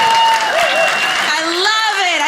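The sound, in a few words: comedy club audience applause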